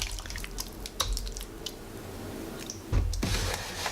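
Chicken pieces marinated in soy sauce are mixed by bare hands in a bowl, making wet squelching and dripping sounds close up, with a louder squish near the end.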